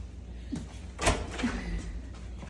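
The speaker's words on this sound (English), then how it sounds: "my brother don't know how to open the door" A door at Mall of America is handled with a sharp thunk near the middle, surrounded by softer knocks and background bustle.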